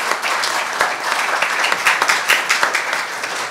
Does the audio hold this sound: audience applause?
yes